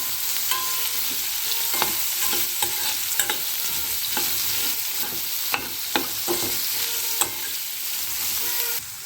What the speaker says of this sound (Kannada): ಒಂದು ದೊಡ್ಡ ಸೈಜಿನ ಕ್ಯಾಪ್ಸಿಕಮ್ನ ನಾನು ಹೆಚ್ಚಿ ಹಾಕ್ತಾಯಿದ್ದೀನಿ ನನ್ನ ಎಣ್ಣೆಯಲ್ಲಿ ಚೆನ್ನಾಗಿ ಫ್ರೈ ಆಗಬೇಕು